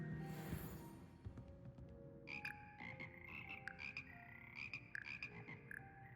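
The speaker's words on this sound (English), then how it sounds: "Singing frogs, don't really know why, but I won't question it." A choir of singing frogs in the video game Hogwarts Legacy croaks in quiet, tuneful, overlapping bursts that repeat in a loose rhythm over a soft background.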